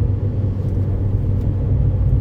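A Ford Fiesta ST with a Duratec 2.0 engine and Mountune inlet manifold drives along, its engine giving a loud, steady low roar close by with no talking.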